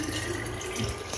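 Hot water pouring into thermoses to refill them, a steady close splashing stream with no talk.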